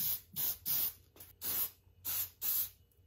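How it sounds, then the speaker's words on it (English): Spray glue from an aerosol can sprayed onto cooking foil in short bursts, six loud, close hissing blasts separated by brief pauses, with no talking. "I'm gonna spray some spray glue on it, and then like roll it on and then trim it afterwards."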